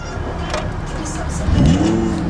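Rented Lamborghini Huracan engine in Vegas, idling with a low rumble before a sharp, close rev climbs and holds high near the end, while people talk over it.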